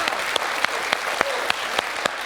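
Applause from a quiz show audience, a steady dense patter of clapping with sharp louder claps standing out roughly every quarter second, held throughout at close range.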